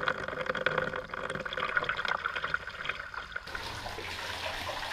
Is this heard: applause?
no